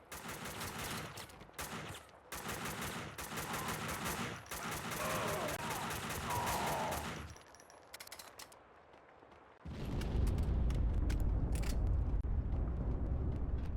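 Bursts of video game gunfire from Max Payne 2, dense rapid volleys and shots stacked close together over most of the stretch, then a brief lull and a heavy low rumbling blast near the end.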